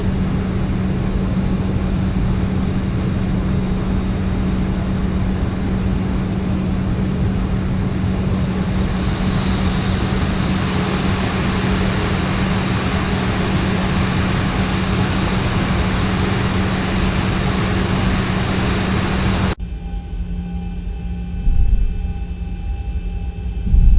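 An airliner's engines spool up as power is added for taxiing in the X-Plane 11 flight simulator. A loud, steady jet roar holds with a constant hum, then cuts off abruptly near the end, with no talk.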